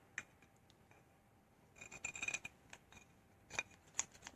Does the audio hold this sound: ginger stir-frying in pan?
no